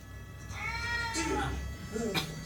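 A cat meows in the Cowboy Bebop anime episode "Pierrot le Fou", a short rising-and-falling cry mixed in with people talking over it.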